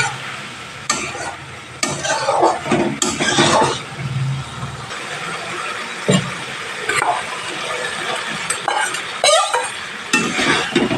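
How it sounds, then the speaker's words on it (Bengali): Okra stir-fried with spice masala in oil, a steady sizzle under repeated spatula scrapes and pan clatter, close and fairly loud throughout with no talk. "ভেন্ডির সাথে মশলাটাকে ভালোভাবে কষিয়ে নিতে হবে"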